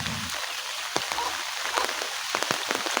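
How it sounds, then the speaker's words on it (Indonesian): Heavy morning rain falling on a rural Sundanese village in West Java, a dense steady hiss of downpour close by with scattered louder drops hitting nearby surfaces. "Waduh, pagi-pagi hujannya sudah besar sekali nih."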